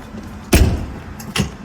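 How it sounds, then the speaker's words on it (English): The entrance door of a Jayco Jay Feather 24FK travel trailer swings shut with a solid thud, followed moments later by a second, lighter latching knock, close and clear in a quiet interior. "Close the door."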